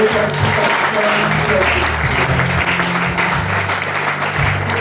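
A church congregation at a Sunday service applauds loudly and continuously, with dense clapping from many hands, cheering voices and a low sustained tone beneath.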